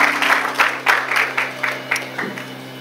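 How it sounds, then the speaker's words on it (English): A church congregation standing during a service claps in a sparse, rhythmic pattern of distinct claps, moderately close, over a low steady hum and with no talk over it. "Let's give a round of applause for Abraham and for Alexandria."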